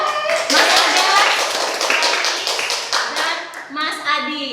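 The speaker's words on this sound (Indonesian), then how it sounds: "Kita beri tepuk tangan di sini untuk ada Mbak Ida, Mas Agas," Loud burst of audience applause, many hands clapping together close by, with voices faintly mixed in before it fades.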